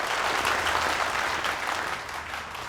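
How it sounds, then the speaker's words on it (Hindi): Audience at a magic show clapping, a dense, steady burst of applause that holds loud and then eases slightly toward the end, no voices over it. "ऑडियंस इसलिए तालियां बजा रही है क्योंकि सस्ते में टिकट बांटे हैं इसने एके ने।"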